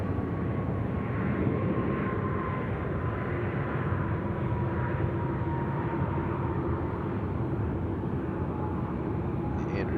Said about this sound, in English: Emirates A380 on finals.